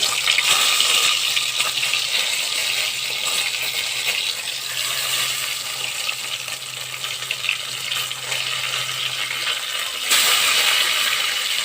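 Pumpkin-leaf and shrimp fritters deep-frying in hot oil give a steady, close, bubbling sizzle that stays dense and even throughout, with no talking.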